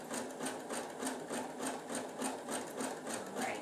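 A sewing machine stitches a corded fabric bowl, its close, steady mechanical whirr pulsing in an even rhythm as the bowl turns.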